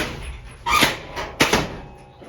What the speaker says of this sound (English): So I force the door.